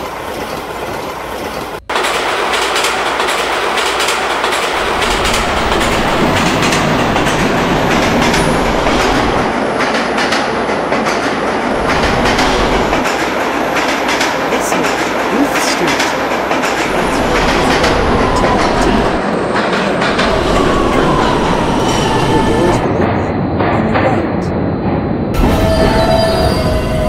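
Subway train PST-4R in the Roblox game PTA Subway, running on the B line with a steady loud roar and rhythmic clickety-clack of wheels over rail joints, with occasional wheel squeal, continuing for the whole stretch with no talk.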